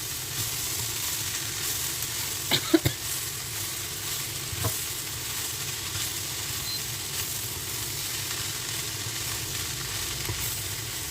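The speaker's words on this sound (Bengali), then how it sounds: "ঝুরি মাছগুলো এখন আমি করলার মধ্যে দিয়ে দিব। দিয়ে আবার একটু নাড়াচাড়া নেব।" Bitter gourd and shredded fish stir-fried in a pan, giving a steady close sizzle throughout with a few brief scraping stirs and clinks early on, and no voices.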